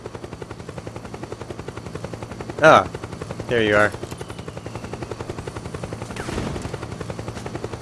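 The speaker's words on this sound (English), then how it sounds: "There's a helicopter, I can hear it." A helicopter's steady rhythmic rotor thump drones throughout in the video game Metal Gear Solid 4, fairly loud, while a player briefly speaks over it.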